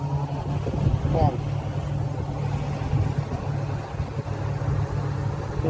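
A repaired air conditioner unit powers on and runs with a steady low mechanical hum and rumble, while a person talks over it nearby.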